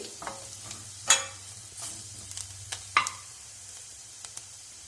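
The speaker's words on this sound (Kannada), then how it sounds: "ಸ್ವಲ್ಪ ಲೈಟಾಗಿ ಫ್ರೈ ಮಾಡಿ." Lentil powder frying lightly on a low flame for curd sambar, a quiet, steady sizzle broken by scattered soft scrapes and stirring taps in the pan.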